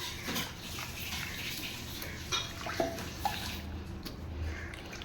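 Cut pumpkin pieces being rinsed in water, with steady sloshing and splashing, occasional drips and small knocks, close by and moderately quiet.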